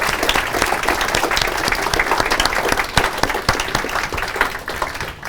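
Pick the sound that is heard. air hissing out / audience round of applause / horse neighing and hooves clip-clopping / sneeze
audience round of applause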